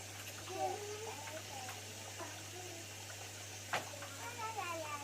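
Water runs from a tap while dishes are washed, a faint, steady gush beneath an adult and someone talking, with occasional clinks.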